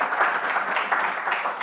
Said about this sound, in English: let's wake ourselves up by giving Lee a round of applause